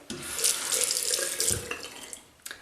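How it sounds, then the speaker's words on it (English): A tap runs full and close while a face is rinsed after a wet shave, a steady rushing stream that thins out near the end. "Rinse, rinse, rinse, rinse. Can never rinse enough."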